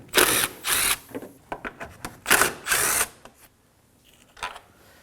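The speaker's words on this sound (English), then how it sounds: "using a 10mm socket, we're going to go ahead and remove these 2 10mm bolts" A power tool with a 10mm socket runs in short, loud whirring bursts while removing radiator bolts on a 2016-2020 Kia Sorento 2.4L four-cylinder, with clicks and clanks between spins and a fainter final burst.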